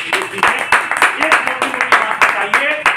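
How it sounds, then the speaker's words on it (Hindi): Audience applause at a product presentation talk, a burst of many hands clapping loudly and continuously close by, with a voice speaking over it. "एक बेहतरीन और जोरदार ताली होना चाहिए।"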